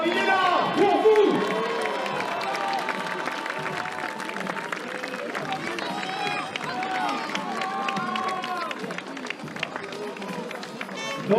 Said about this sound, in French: Allez, le public, on lève les bras, on applaudit.